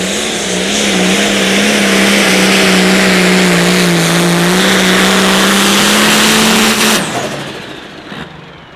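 A 10,200 pro stock pulling tractor roars at a Friday-night outlaw tractor pull in Wisner, Nebraska, its engine loud and close with a sustained, slightly rising drone before cutting off sharply, leaving fading rumble.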